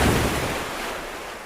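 Ocean waves roll at sea at night under dark cloud, a steady loud wash of surf with no voices.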